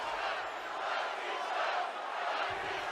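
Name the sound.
crowd cheering in WWE 2K24 video game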